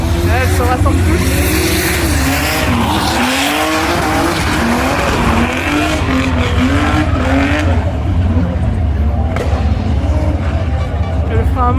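Drift cars at a French drift festival slide through handbrake turns, tires squealing in long wavering howls over loud engine roar, with voices talking nearby.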